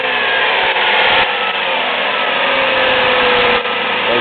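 2002 Dodge Stratus with a 2.7L engine, 129,000 miles, accelerating while cold, giving a loud close steady engine drone with a faint rising whine and a few brief dips.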